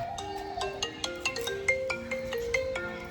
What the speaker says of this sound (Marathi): आलाच फोन बघा.